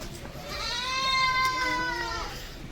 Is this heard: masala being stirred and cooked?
no